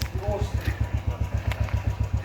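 Royal Enfield motorcycles pull away on a mountain road in Arunachal Pradesh, their engines giving a fast, even, close thumping beat that carries on throughout.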